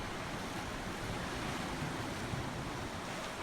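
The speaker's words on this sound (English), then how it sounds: "You can hear the rhythm of the ocean. A wave approaches. A wave breaks." Steady, loud roar of surf with waves crashing continuously, broadband and wind-blown, no voices.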